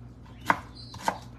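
A kitchen knife slices thinly through a bottle gourd (upo), giving two crisp, separate cuts about half a second apart, close and moderately quiet over a faint background hum.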